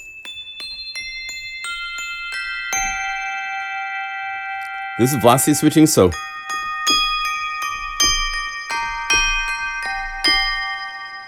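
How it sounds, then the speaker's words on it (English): Sampled chimes played from a sample library in a run of struck, ringing tones with long sustains, switching between soft and hard velocity layers, with a brief dense cluster midway and someone talking over them. "The chimes."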